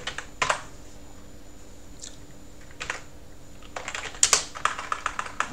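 Keys are tapped on a computer keyboard as a uname command is entered on an old 2009-era GNU/Linux system, producing a few separate quiet clicks and then a quicker cluster of keystrokes toward the end, with no voices.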